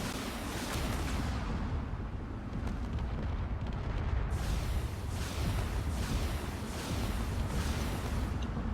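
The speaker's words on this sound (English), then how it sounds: "There's cannon fire going across." Cannon fire and explosions in a video game drone battle form a dense, continuous roar, with repeated heavy booms landing roughly every second.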